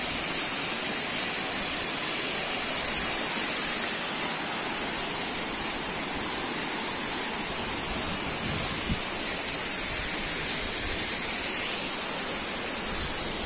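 The Ilomska waterfalls roar as a dense, unbroken rush of falling water, loud and close, filling the whole stretch without pause.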